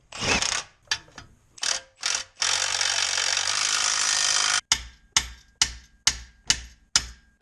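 Transmission jack being worked loose and removed from under a C4 Corvette during a 3-speed swap: a series of close metallic ratcheting clicks and clunks in short bursts, with one longer grinding stretch in the middle.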